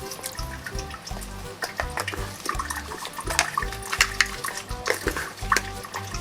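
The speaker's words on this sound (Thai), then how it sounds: "แล้วคนเกลือกับน้ำนะจนเกลือละลายหมด" Salt being stirred into water in a bowl until it dissolves, for a Thai red candied banana dessert; steady watery swishing and clinking strokes throughout, fairly close, with no talk over it.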